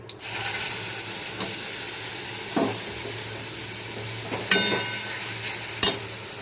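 Nigella seeds and a spice paste frying in oil make a steady hiss, with a few soft scrapes and knocks from stirring spread across it, fairly close, with no talking.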